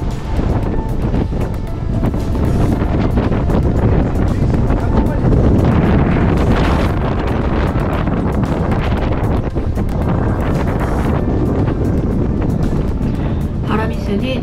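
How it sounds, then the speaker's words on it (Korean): Strong wind roars continuously across a sailing yacht at sea, buffeting the microphone with a loud rushing blast, with voices occasionally heard under the gusts. "강풍에 붕대도 휘청거립니다"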